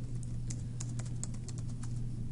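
Typing on a computer keyboard, a quick uneven run of light key clicks over a soft steady background hum, close and fairly quiet.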